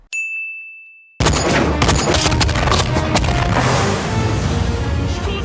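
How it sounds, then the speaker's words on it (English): In the anime Youjo Senki, a sharp metallic ding rings out alone first, then gives way to a dense, loud barrage of rapid gunshots and booming explosions that continues to the end. "These gunshots and explosions sound incredibly clear and hard-hitting respectively."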